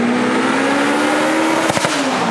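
A supercharged HKS Honda S2000 with 416 bhp revs hard, a loud sustained engine scream climbing steadily, cut by a brief gear-change burble near the end.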